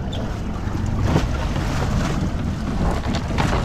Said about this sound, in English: we're gonna hook up our kill switch line, bump the motor in gear